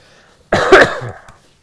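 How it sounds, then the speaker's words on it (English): A single harsh cough from someone with the tail end of a cold bursts out close to the microphone, followed by a brief rough tail, with silence before it. "Try not to cough into your ears."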